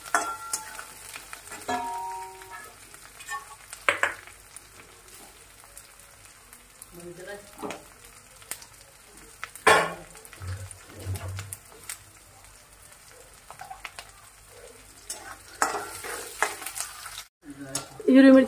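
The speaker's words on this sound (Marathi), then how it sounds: "हिरवी मिरची चांगली तेलामध्ये तळली गेलेली आहे, तुम्ही बघू शकता" Green chillies frying in hot oil with onions for Maharashtrian besan pithla, a steady soft sizzle with occasional stirring scrapes and pan clinks close by.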